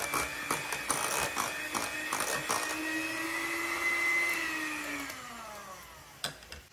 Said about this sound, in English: we're gonna blend our cream cheese to get it nice and smooth with our hand mixer